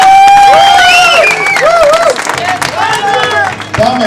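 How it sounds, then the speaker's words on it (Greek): A crowd at a 2005 car tuning show in Veria applauds and cheers loudly, the clapping dense at first and then thinning, with shouts and a presenter's voice over the noise. "Για πάμε, χειροκρότημα."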